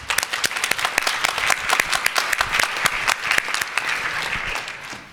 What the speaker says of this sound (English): Maybe applause.